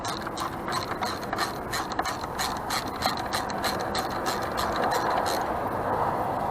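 A socket wrench ratchets in a rapid series of close clicks while tightening a part on a Sea-Doo SPX GS 717 engine, the clicking fairly loud and continuous over a light background.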